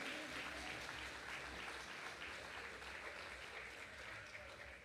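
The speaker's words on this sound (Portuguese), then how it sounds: "Você pode aplaudir ao Senhor por isso?" A church congregation applauding, dense sustained clapping that holds steady throughout and fades slightly at the end, heard at a distance and fairly faint.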